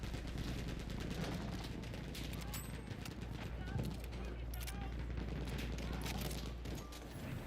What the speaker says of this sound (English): the sound of gunfire